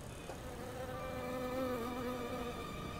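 A housefly buzzes steadily and close by for the whole stretch, a continuous droning hum with slight wavering pitch and no voices over it.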